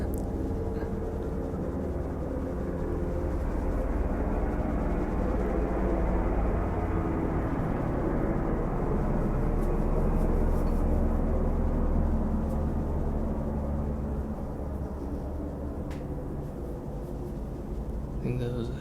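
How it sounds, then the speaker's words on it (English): A helicopter's loud, steady rumble fills the air, swelling as it passes overhead and then easing slightly as it moves off. "I think that was a helicopter."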